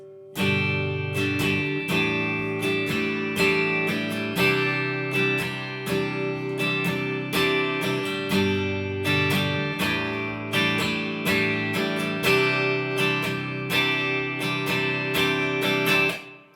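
Strummed acoustic guitar chords from the chorus of a song ring out steadily in a repeating rhythmic pattern, full and close, with no voices.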